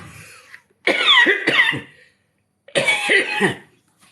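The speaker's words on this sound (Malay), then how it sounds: "kan dah batuk dah" Two separate bursts of harsh, raspy coughing, the first a quick double cough and the second a longer fit, loud and close with quiet between.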